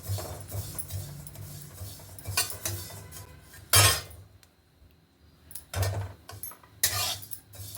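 White sesame and poppy seeds dry-roasting in a pan on a stove, with a utensil stirring them and clinking and scraping against the metal in irregular light taps and a few sharper knocks, close by and without talk.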